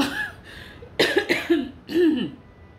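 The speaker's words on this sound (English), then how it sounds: "I keep coughing, like I can't even talk." Three or four short, harsh coughs in quick bursts, close up and fairly loud, with brief pauses between them.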